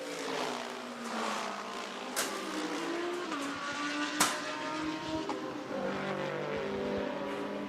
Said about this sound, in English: Everybody else goes booming past the pits for another lap.